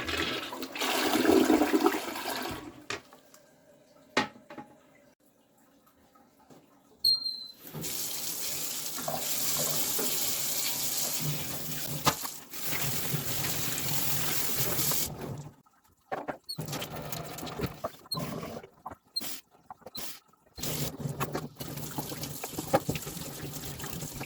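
A household toilet flushes several times, plumbed on a line with a flat spot before it slopes to a septic system: loud rushing water surges, drains and cuts off, then further flushes and refilling follow in separate bursts.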